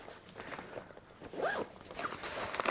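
A zipper on the chest pocket of a Richa motorcycle jacket is pulled in a couple of quick rasping strokes, close and fairly loud, with faint handling rustle around it.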